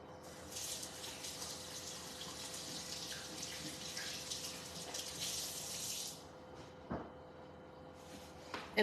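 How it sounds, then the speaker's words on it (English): A kitchen tap runs in a steady, close rush as hands are washed partway through mixing meatloaf, then cuts off, leaving a few faint sink clinks and drips. "Wash my hands."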